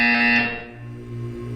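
Loud, harsh electronic buzzer from the video game Portal 2 sounds once for about half a second, then cuts off into a low background hum.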